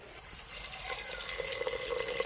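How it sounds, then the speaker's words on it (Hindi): Water is poured into a pan of peas and mashed potato being cooked into a chaat curry, a short steady splashing pour that grows slightly louder, close up with no talking. "पानी को डालते हैं अब हम मटर आलू में ताकि ये चटनी बनकर तैयार हो जाए।"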